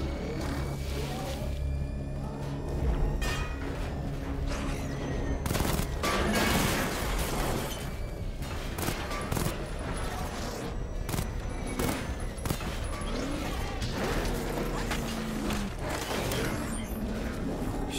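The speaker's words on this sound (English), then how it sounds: "I've spotted 6 more unmanned tanks moving through Chinatown" Unmanned tanks open fire in the Batman: Arkham Knight video game in Chinatown, with dense volleys of gunfire and heavy booms rolling on for the whole stretch.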